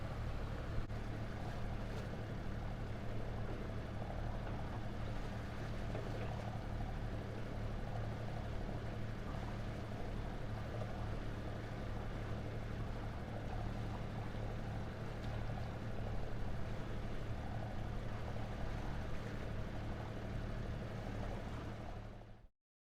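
A sailing catamaran motors along under engine power in calm conditions with no real wind. A steady, low droning hum holds evenly throughout and then cuts off abruptly at the end, with no voices.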